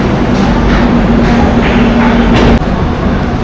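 Golden Temple Mail train at Bandra Terminus, a loud continuous rumble of the train with a steady low hum and faint clatter, one abrupt knock near the end, no talking.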